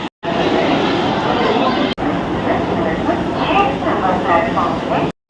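Crowd noise on a busy platform at Howrah railway station: a dense, steady murmur of many voices and ambient clatter, loud and continuous, with a brief gap near the start.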